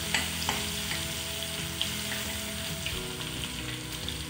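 Pounded ginger and garlic fry in hot oil at the start of a lahsuni chicken, giving a loud, steady sizzle with occasional spoon taps and stirring clicks and no voices.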